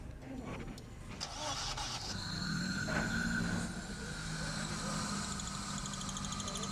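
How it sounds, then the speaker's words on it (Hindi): A Suzuki Liana car engine, fixed after a cam sensor repair, cranks briefly and then catches into a steady running idle nearby, with some talk alongside. "गाड़ी स्टार्ट हो गई है।"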